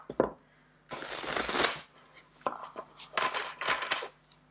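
Gilded Tarot Royal tarot cards are shuffled by hand in quick riffling bursts, crisp papery flutters with short pauses between, close and clear.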